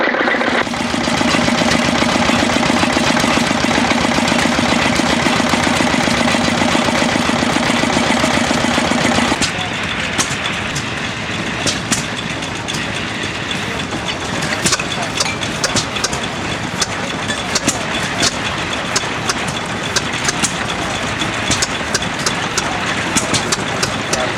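A restored Wilsey 2.5 horsepower small stationary engine runs loud and close, with a steady drone that drops to a rougher, lower, irregular chugging after about ten seconds.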